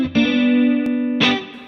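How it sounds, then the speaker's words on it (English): An electric guitar played through a Tonex rig with reverb switched on via an XSonic Airstep controller: a sustained distorted chord rings steadily, a click sounds midway, then a second chord is struck with a swelling tail. "if I long press, okay, the reverb turns on."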